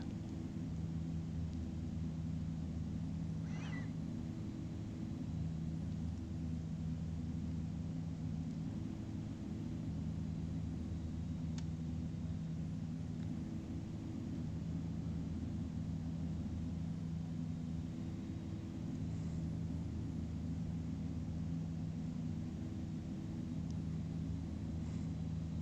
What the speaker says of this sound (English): Peppy little plane, at least it got right back up in the air.